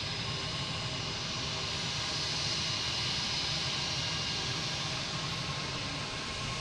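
A JetBlue jet airliner at Boston Logan International Airport gives a continuous broadband roar with a hissy rush, steady and fairly distant, with no voices.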